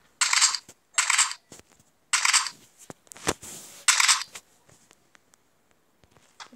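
Gunfire in a shooter video game: several short, sharp gunshots in quick bursts, a few seconds apart, crisp and fairly close with quiet gaps between them.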